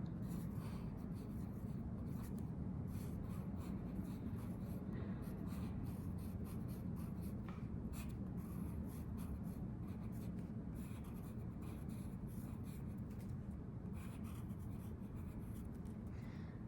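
A pen scratches steadily across a card, writing out the word Grateful in long continuous strokes, close and fairly quiet, with no talking over it.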